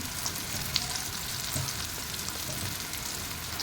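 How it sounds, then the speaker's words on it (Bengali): Spices frying in goat fat for a dal: a steady, close sizzle with crackling pops over a low background, with no voices. "এবার দেখো ভালো করে ভাজা ভাজা হয়ে গেছে এবার একে একে মশলা আমি অ্যাড করব"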